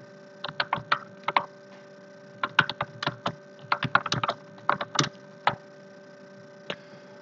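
Typing on a computer keyboard, with sharp key clicks in irregular bursts and short pauses, close and clear, no talking, over a faint steady hum.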